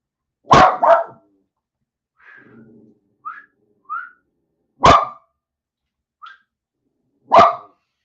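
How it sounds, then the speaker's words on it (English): A dog barks in short, sharp bursts, first a quick double bark, then single barks spaced several seconds apart, with soft whistle-like chirps and a faint low rumble in the quiet gaps. "we also got to get the dog quiet down here."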